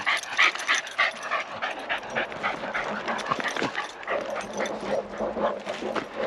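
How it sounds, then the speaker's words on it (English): A dog whimpers, yips and barks outdoors during a rockhounding outing at a limestone outcrop, with a continuous run of whiny, high-pitched cries that stays fairly close and steady throughout. "I heard him barking to something"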